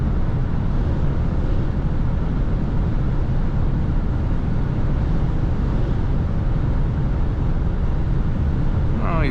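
A 2017 Audi A6 2.0 TDI diesel (136 hp, chipped) at about 3000 rpm in sixth gear on the Autobahn gives a steady, loud engine drone blended with heavy road and wind roar, unchanging throughout.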